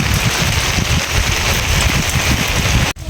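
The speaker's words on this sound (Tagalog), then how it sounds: "lumakas ang hangin at sabay ulan" Heavy rain pours down steadily with gusty wind buffeting the microphone, loud and continuous, briefly cutting out near the end.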